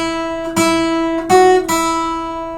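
An acoustic guitar plays bar three of the folk tune The Raggle Taggle Gypsy, a few distinct plucked notes in a steady rhythm, each ringing with bright harmonics, up close and unaccompanied.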